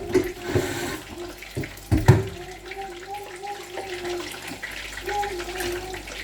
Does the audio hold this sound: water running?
yes